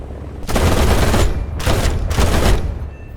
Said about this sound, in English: he was pummeled with machine gun fire from the turrets of the attackers